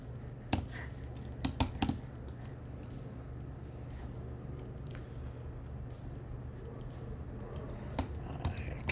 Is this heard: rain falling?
no